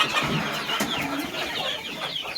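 Hens and chicks in a coop partitioned with wire mesh give scattered, close clucks and short chirpy calls over a dense background of farmyard noise.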